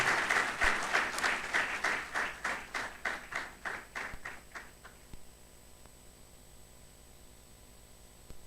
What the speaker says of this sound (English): Another round of applause for her, please.